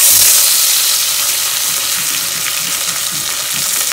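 Bay leaves, cardamom and garam masala dropped into hot oil for an egg curry, giving a loud, dense, continuous sizzle that holds steady without talk.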